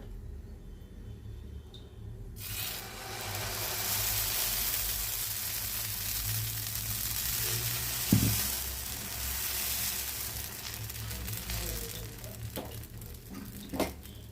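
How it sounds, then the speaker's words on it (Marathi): Amboli batter, an Indian rice breakfast pancake, hits a hot pan and sizzles loudly and steadily, a broad hissing fry that holds for several seconds with a few faint clinks of utensils. "त्यावर आता आंबोळ्याचं पीठ घालून घेऊया।"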